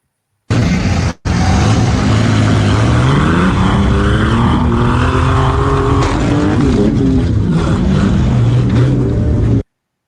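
A derby race car engine roars from inside the cockpit, loud and close, its pitch climbing and falling through gear changes. Engine and road noise stay constant after a brief cut near the start.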